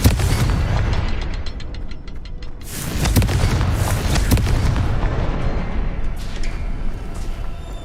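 Confringo fire spell explosions in the Hogwarts Legacy video game: a couple of sharp, booming blasts in the middle of a continuous loud rumble, with no voices.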